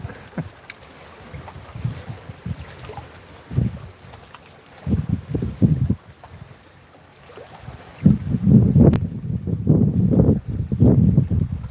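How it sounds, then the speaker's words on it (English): Strong gusts of wind buffet an outdoor microphone in loud rumbling bursts that come and go, with quieter lulls between them, no talking. "I wish that wind would die down, but man, it doesn't look like that's happening"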